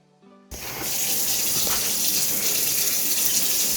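Tap water gushes steadily from a kitchen sink faucet after a brief quiet start, a close, continuous splashing stream with no voices.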